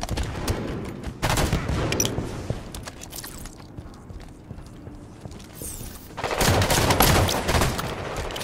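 Rapid bursts of automatic gunfire and shots from Halo 5 multiplayer crackle up close, fading to a quieter stretch of scattered game sounds before another heavy volley erupts.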